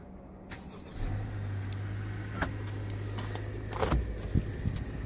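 A 2019 Honda Civic EX-L engine turns over by remote start with a low steady hum settling into an idle, accompanied by a few sharp clicks and knocks nearby, with no talk.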